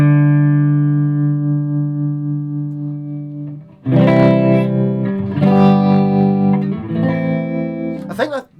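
Electric guitar played through a Supro Black Magick 25-watt amp with tremolo engaged, a sustained note ringing first, then pulsing strummed chords, loud and up close.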